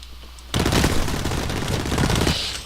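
Sustained hip-fire gunfire in Blacklight Retribution, a loud, continuous rattle of rapid shots that starts abruptly and runs without pause until the end.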